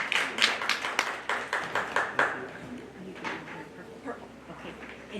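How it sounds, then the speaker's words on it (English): Scattered hand clapping from an audience at a county fair dairy show, a couple of seconds of uneven claps that thin out and fade, with faint voices and background murmur underneath. "let's give her a round of applause for doing a great job with this project this summer"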